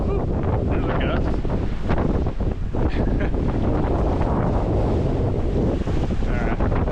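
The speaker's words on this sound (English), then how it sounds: "there's a gust" A strong gust of wind hits a sailboat at sea between Martinique and Dominica, blasting the microphone with a loud, sustained roar mixed with rushing water and the boat's motion.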